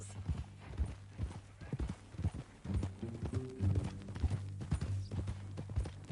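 Horse hooves clip-clop steadily on the ground in the Western video game Red Dead Redemption 2, with a horse whinnying faintly and low music and voices underneath.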